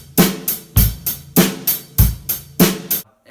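A basic rock beat on a drum kit with hi-hat, bass drum and snare, steady evenly spaced hits about twice a second, loud and close, with no talking.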